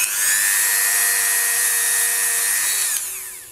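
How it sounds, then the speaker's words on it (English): A buffing wheel spins at high speed polishing black polymer clay earring pieces coated with wax, giving a steady, loud, high-pitched whine that holds for about three seconds before winding down. "use your buffing wheel with the excess wax on it to give them a light shine"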